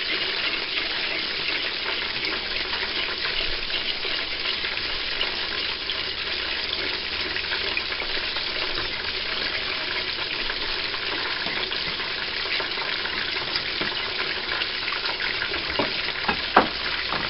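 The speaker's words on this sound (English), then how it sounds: "I'm going to pour the milk in there slowly." Milk is poured slowly into melted butter in a pan on low heat and stirred constantly, giving a steady, even sizzling and bubbling hiss with no talking.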